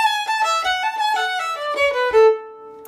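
A fiddle plays a short tag phrase, a run of bowed notes descending to a held final tone, with a few soft foot taps underneath and no talking.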